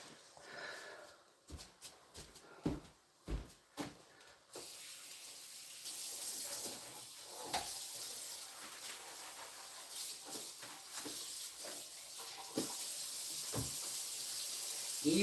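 A cast iron pan clunks and scrapes in a sink, then a faucet opens into a steady rush of running water that rinses it, growing slightly louder toward the end.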